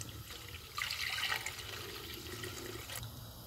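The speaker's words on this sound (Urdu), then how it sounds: "اور باقی پانی ڈال دیں گے" Water poured into a pot of curry on the stove while making kadhi pakora, a steady splashing pour that swells after a moment and runs fairly close, with no talk.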